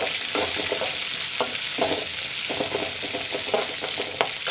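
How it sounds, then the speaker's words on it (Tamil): Garlic, dried red chili and onion stirred in sizzling coconut oil, a continuous close frying hiss broken by frequent scraping and clacking strokes of the spoon in the pan. "பூண்டு, வரமிளகாய், வெங்காயம் எல்லாத்தையும் நல்லா ஆட் பண்ணி கலந்து விட்டுக்கலாம்."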